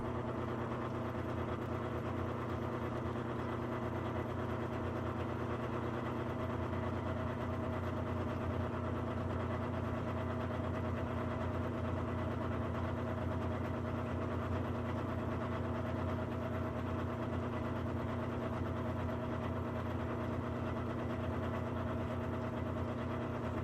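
A forming wheel feeding straight into a cartridge case rim on a lathe-type machine, giving a steady, continuous mechanical hum with stable low tones throughout, moderately loud and alone with no talk.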